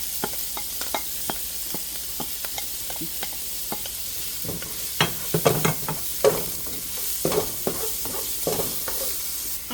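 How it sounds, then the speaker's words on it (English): Onions and garlic stir-frying in a pan, with a steady sizzle under repeated scraping and stirring clatters of a utensil against the pan, busier and louder in the second half. "We're gonna stir fry our onions and garlic"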